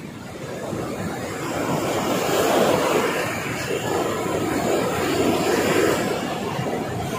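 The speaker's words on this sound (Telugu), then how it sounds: "సముద్రం అయితే మంచి స్పీడ్ మీద ఉంది ఈరోజు." Sea waves wash and roar steadily at Anjuna Beach in North Goa, a continuous loud broadband rush with gentle swells in intensity and no clear voices.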